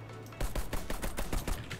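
Rapid gunfire from the shooter video game Warface cracks out as a quick string of sharp shots, some close together in bursts, fairly loud with no talking over it.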